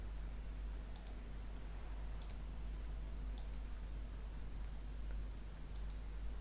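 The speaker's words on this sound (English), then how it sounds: "Then double click on this theme shortcut and paste it here." Computer mouse clicks while copying and pasting Windows 11 theme files, sharp paired double clicks repeated four times at roughly one-second gaps, close and crisp over a low steady hum.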